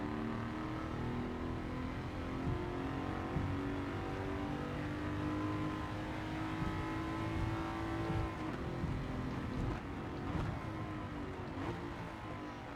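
Jaguar F-Type R14 race car engine in Gran Turismo 7 on the Tokyo Expressway, a loud, continuous close-up roar with steady harmonic drone and brief shifts in pitch near the end.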